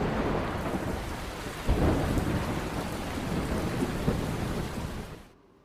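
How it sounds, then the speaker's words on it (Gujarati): Heavy monsoon rain falls in Mahuva, Bhavnagar, a dense, roaring downpour with a deep rumble of thunder rolling in partway through, continuing loud before cutting off abruptly near the end. "મહુવાના ગાંધીબાગ અને સ્ટેશન રોડ સહિતના વિસ્તારમાં પણ વરસાદ વરસ્યો છે"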